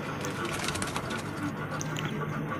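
Mixed desi pigeons kept for sale in Lucknow coo steadily and close, a low rolling murmur under chatter and background noise.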